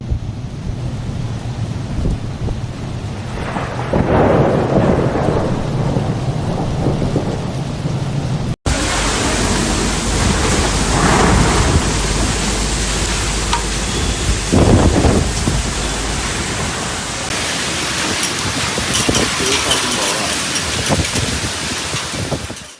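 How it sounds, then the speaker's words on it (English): Heavy rain pours in a thunderstorm over Zhejiang, China, with loud rolling thunder and gusty wind noise, a dense continuous roar swelling in bursts with brief distinct cracks. "northern and western central Zhejiang experienced cloudy skies with showers or thunderstorms"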